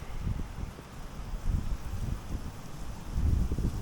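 Gusts of wind buffet the microphone in low rumbling bursts, rising and falling unevenly, with a faint rustle underneath, outdoors on a frozen lake during ice fishing.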